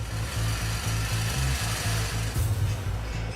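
Reciprocating saw cutting in a steady rapid pulsing chatter, loud and close, running continuously without talk.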